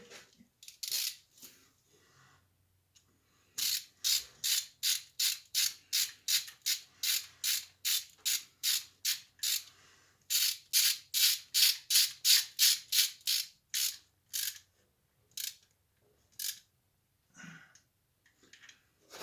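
A hand ratchet tightens an intake bolt on a 5.7 Hemi engine, clicking in rapid, regular bursts of many sharp clicks with short pauses between strokes, close and clear with no talking.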